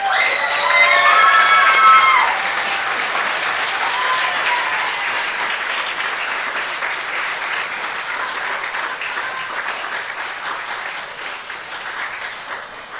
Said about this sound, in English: another round of applause for the Symphonic Band